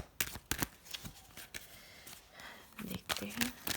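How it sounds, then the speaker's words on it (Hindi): Tarot-style reading cards being shuffled during a pendulum reading: a run of quick, crisp riffling bursts and flicks at close range, with soft voices in the background. "last time shuffle"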